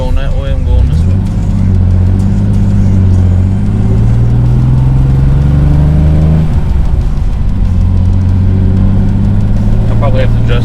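A BMW E30 engine with a tapping fault runs loud and close, a steady drone rising as it revs, drops briefly and resumes, with voices nearby.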